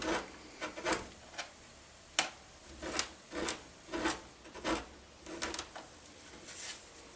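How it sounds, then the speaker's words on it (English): A block of chocolate being shaved by hand for melting, a series of soft, quiet scraping strokes in an irregular rhythm, close by with no talking. "So we just carefully shave this up a little bit."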